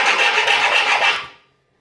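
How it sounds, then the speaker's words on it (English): A file rasps back and forth across protruding screw tips on a thin wooden shelf, a steady dense scraping of several strokes running alone for over a second before stopping into silence. "just gonna go ahead and file those down"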